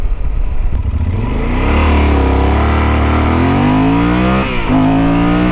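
A Yamaha Super Tenere adventure motorcycle accelerates hard, its engine note climbing steadily through the gears with a brief dip at a shift, loud and close with no talking.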